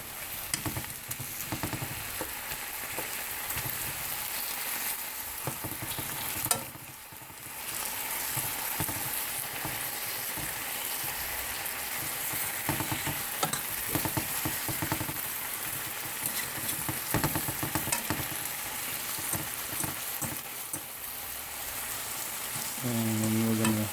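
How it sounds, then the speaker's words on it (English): Glazed tenderloin steaks sizzling in a hot pan, a loud steady crackling fry with dense popping, briefly quieting for a moment before resuming at full strength. "we're going to let them simmer a little bit longer"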